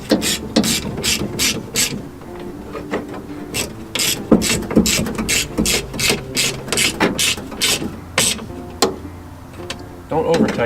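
Ratchet wrench clicking in rapid bursts while snugging a fastener on a Chevrolet S10 truck door, close and loud, with mechanical rattles between strokes and a voice briefly in the background.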